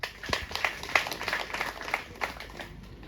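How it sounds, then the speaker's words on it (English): An audience at an education tour event gives a short, thin round of applause: scattered, fairly faint handclaps from a modest group, tapering off within a few seconds. "So give them a round of applause."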